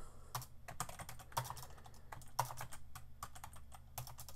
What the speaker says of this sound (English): I'm going to type shop.